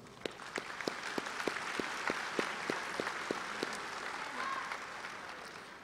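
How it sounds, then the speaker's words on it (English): A crowd at a college commencement ceremony claps steadily, many hands applauding at once in a continuous patter, moderately distant, fading slightly toward the end. "A round of applause,"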